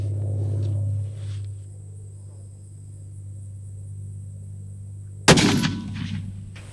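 A single sharp 6.5 Creedmoor rifle shot cracks out after several seconds of steady low outdoor rumble, during long-range shooting at about a mile, and its report decays quickly with a short rolling tail.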